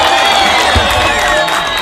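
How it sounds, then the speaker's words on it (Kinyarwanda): Crowd cheering and applauding for the girl group Sakwe, a dense, loud wash of whoops and clapping that stays steady and close throughout, with voices shouting inside it. "mumfashe kandi duhe amashyi aba bakobwa"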